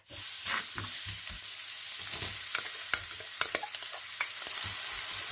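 Garlic fries in a pan with a steady, close sizzle and hiss, punctuated by light scraping taps from stirring.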